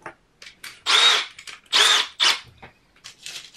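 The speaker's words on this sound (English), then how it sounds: "I'll drill in some screws." A power drill drives screws in several short bursts, each a close, whirring whine lasting under a second, with brief pauses and small clicks between.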